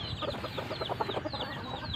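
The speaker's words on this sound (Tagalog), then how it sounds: "ipapasabay ko siya dun sa mga ibang naglilimlim na manok" Brooding hens clucking in a farmyard, a busy overlapping stream of soft, repeated clucks and short calls at close range, continuous throughout with no talking.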